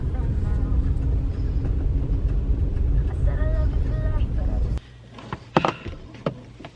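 Car interior on a drive out to the countryside, with a steady low engine and road rumble that cuts out abruptly, followed by a few nearby knocks and clicks in the quiet.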